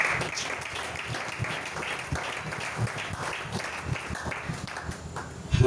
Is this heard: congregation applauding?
yes